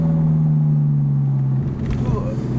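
A Ferrari engine drones steadily and low while the car is being driven, a constant hum with faint cabin noise and a slight shift near the end.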